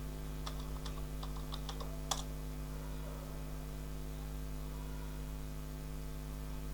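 Keys click faintly as a password is typed on a computer keyboard into a terminal, a brief run of taps ending in one firmer keystroke, all over a steady electrical hum. No one speaks.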